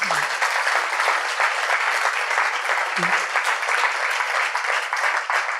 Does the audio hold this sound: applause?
yes